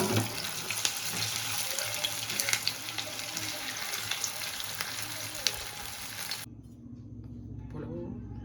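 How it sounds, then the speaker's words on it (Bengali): Continuous crackling sizzle of semolina-potato snacks frying in hot oil, close up, with scattered pops, stopping suddenly before a quieter stretch. "আমি এবার এক এক করে গরম তেলে ছাড়বো।"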